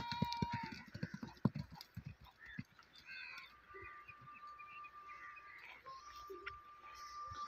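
Horses offered for sale clip-clop in a quick, uneven series of hoof strikes early on, close and fairly crisp, fading as softer background sounds and distant bird-like calls take over.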